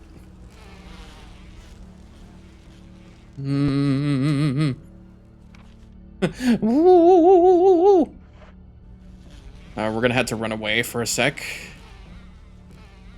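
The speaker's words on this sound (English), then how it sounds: "Get away from the bees." Giant bees from the Resident Evil video game buzz in three loud, wavering bursts separated by quieter gaps, with a voice talking over part of it.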